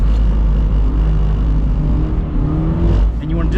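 A 2022 Subaru BRZ engine roars loud and close under full throttle while drifting, a dense steady drone with a slight dip and shift in pitch near the end.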